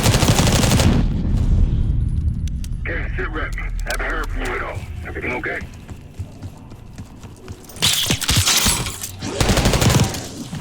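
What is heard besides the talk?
gunfire in a video game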